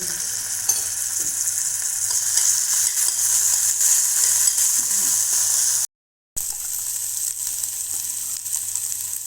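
Crushed green chilies and garlic frying in hot oil, a steady close, bright sizzle with light stirring throughout and a short gap of silence partway, no talking.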